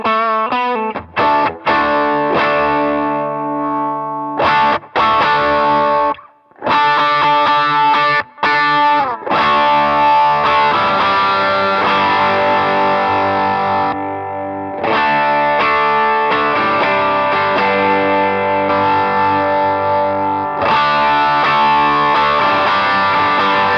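Electric guitar driven through a Walrus Audio Voyager MKii overdrive pedal with frequency boosted, giving a cocked-wah tone: dense, loud distorted chords and riffs played continuously for over twenty seconds, with a few brief gaps and no talking.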